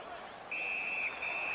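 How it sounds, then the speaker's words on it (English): A referee's whistle in the NHL 19 ice hockey video game sounds as a shrill, sustained two-part blast, briefly broken in the middle, over faint arena crowd noise. "And freezes play for the whistle."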